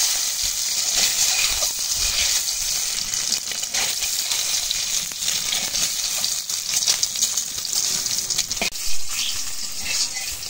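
Egg frying in hot oil, a steady broadband sizzle with crackling and popping running throughout, close and fairly loud, with no talk.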